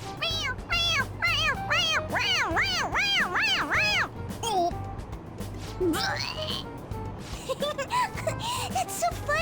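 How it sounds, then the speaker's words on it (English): Toy cat meowing each time its head is pressed in the video game Persona 5 Royal, a run of rapid repeated high, wavering meows up close, followed by sparser sounds mixed with game effects and brief vocal noises. "It meows when you press on its head."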